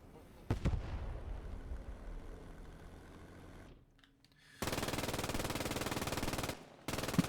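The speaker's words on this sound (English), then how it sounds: "I do want to say this machine gun position has been absolutely invaluable for the Axis." Rapid bursts of machine gun fire from an entrenched Axis position in a Squad 44 realism match, loud and sustained in long volleys with a short gap between them, after a stretch of quieter battlefield noise.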